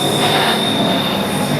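A metro train rolls past on the rails, its wheels squealing in a steady high whine over a loud, continuous rumble and rattle of railcars, close by. It cuts off abruptly at the end.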